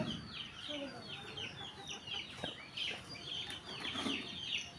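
Chickens cluck in a steady, moderately close chorus, with occasional sharper squawks rising over the busy background.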